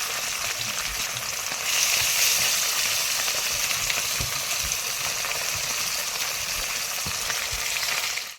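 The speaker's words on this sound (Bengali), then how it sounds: "এবার আর এক পাশ ভাজা হচ্ছে" Fish fries in hot oil in a pan, a dense, continuous sizzle that swells slightly early on and holds steady, with faint low clatter underneath.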